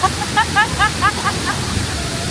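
Steady broadband rushing of a waterfall in Bali fills the background, a constant wash of falling water, with a voice speaking briefly over it at the start.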